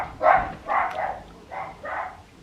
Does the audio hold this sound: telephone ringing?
no